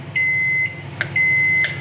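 Two long electronic beeps from an appliance, each about half a second, with a short chirp between them over quiet background noise.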